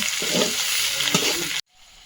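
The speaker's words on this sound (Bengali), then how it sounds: "এবার বাটা মশলাটা দিয়ে দেবো ভালোভাবে কষিয়ে নেব" A ground spice paste with chilli powder and turmeric, for an elephant foot yam dish, sizzles loudly as it is fried and stirred in a pan. The noise runs steadily for about a second and a half, then cuts off abruptly.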